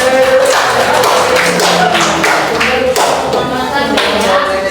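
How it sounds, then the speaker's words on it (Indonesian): A class of students clapping their hands together in a classroom, dense overlapping claps running steadily throughout with voices mixed in. "Ya, tepuk tangan."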